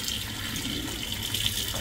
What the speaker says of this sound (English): That's a lot of water coming out.